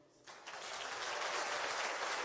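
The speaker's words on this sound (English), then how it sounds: "round of applause for the last time" An audience bursts into applause after a talk, starting abruptly and swelling into sustained, dense clapping that fills the hall.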